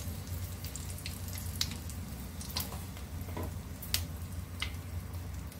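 Nigella seeds crackle in hot oil in a wok, with a continuous close sizzle and a few sharp pops scattered through it.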